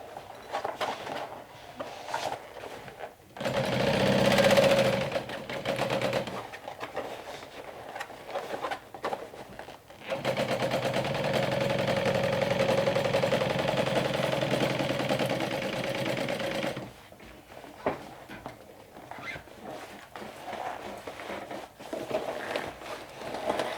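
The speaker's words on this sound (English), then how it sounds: "Top stitching right now is optional, but I find that if you top stitch, it will lay flatter on the bottom" A sewing machine top stitching a backpack being turned into a handbag runs in steady sustained stretches, with quieter handling noises and short gaps between the runs, close up and without talk.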